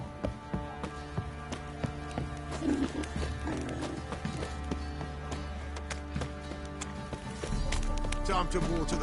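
Horse hooves clip-clop at a steady walking rhythm in The Witcher 3: Wild Hunt, close and moderately loud. Voices talk over the hoofbeats for much of the time.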